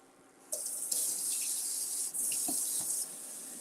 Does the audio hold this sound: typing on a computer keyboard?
no